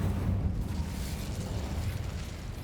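A fire spell cast in Hogwarts Legacy, heard as a steady low roaring, crackling whoosh that holds at an even, fairly loud level for the whole stretch with no voices over it.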